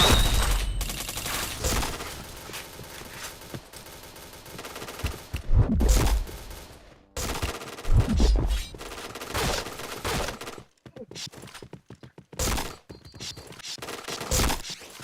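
Rapid bursts of gunfire from the shooter video game Point Blank, dense fusillades and automatic fire volleys with sharp single shots, loud and continuous with brief gaps.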